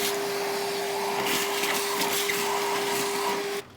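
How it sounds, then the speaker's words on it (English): A vacuum cleaner sucks loose rust and debris from the battery trays and engine bay of a 1998 Ford Transit 2.5DI, a steady close whine with rattling pickup bursts, cutting off abruptly at the end. "I use a vacuum cleaner to remove any loose bits of rust and debris from inside the battery"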